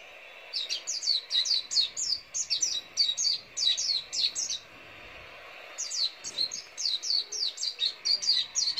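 A small wild bird caught in a mist trap net gives rapid bursts of high, sharp chirps in quick repeated series, close and clear, with a brief pause midway.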